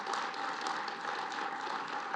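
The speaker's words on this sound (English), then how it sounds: "Their clap track's a little off." Steady, dense applause from a played-back clap track at a White House event, a continuous wash of clapping with no break or rise.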